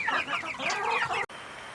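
Chickens cluck and chatter steadily inside a chicken barn, a dense overlapping flock sound that stays close and lively before cutting briefly and resuming more faintly.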